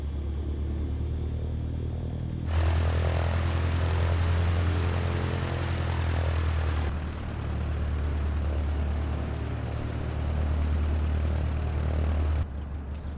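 IRIS Tutor T1 jet taxiing in Microsoft Flight Simulator, a continuous deep engine rumble and broadband roar that steps up in loudness partway through and settles, steady and close with no talking.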